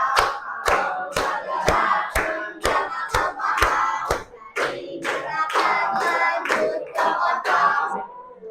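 A team of participants at a training session stands and performs its group cheer, rhythmic sharp claps in a steady beat at first, then a continuous crowd chant of voices shouting together, loud and close throughout.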